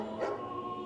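Dogs outside give short whimpering yips and soft barks, a brief close vocal burst near the start and another at the end of a one-second stretch, with a steady hum beneath.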